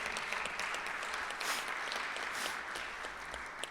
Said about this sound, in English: And as you applaud now